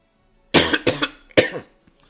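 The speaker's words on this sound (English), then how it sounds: "I forgot to mute myself before coughing." Three sharp, close coughs in quick succession, the first two bunched together and a third after a short pause, then quiet.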